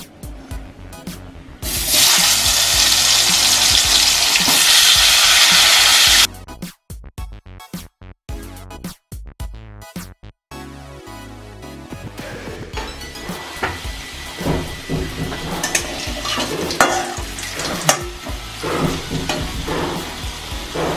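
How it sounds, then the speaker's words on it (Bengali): Potato pieces coated in salt and turmeric hit hot oil with a loud burst of sizzling, then settle into a steady bubbling fry with occasional stirring clatter. "আলুটা নুন হলুদ দিয়ে মাখা আছে, এটা আমি এবার তেলে ছেড়ে দিচ্ছি"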